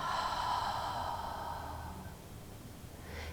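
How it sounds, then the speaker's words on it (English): A single long, breathy exhale through the mouth during a yoga breathing exercise, close and fairly loud, tapering off after about two seconds into quiet room tone. "Exhale through the mouth."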